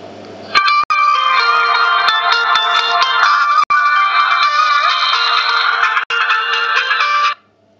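A Nokia J6500 phone plays its ringtone through its loud speaker: a bright, loud melodic tune with steady chiming notes that starts abruptly and runs continuously for about seven seconds before stopping cleanly, heard up close with no talking.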